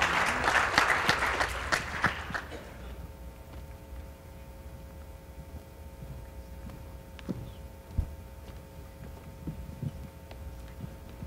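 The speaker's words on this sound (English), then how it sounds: "A round of applause for our final speakers." Audience applause for the final speakers of a market-research talk on games versus surveys, a dense burst of clapping that fades over about two seconds, leaving quiet room noise with occasional faint knocks.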